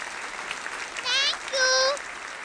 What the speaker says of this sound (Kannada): ನಿಮ್ಮ ಜೋರು ಚಪ್ಪಾಳೆ.